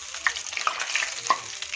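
Food deep frying in hot oil in a home kitchen, a close, busy crackling sizzle with scattered bright pops over a steady fizz, no talking.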